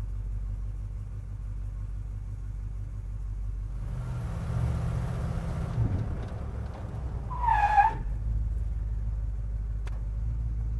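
A car brakes during a rear brake lockup test: a steady engine rumble swells as the vehicle passes, with a brief tire squeal, at moderate distance.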